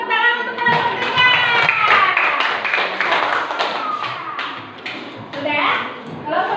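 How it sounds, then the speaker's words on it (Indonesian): A classroom of young children clapping for a group after a science experiment on light reflection, a quick burst of close, uneven hand claps mixed with excited kids' chatter throughout. "tepuk tangan untuk kelompok 3"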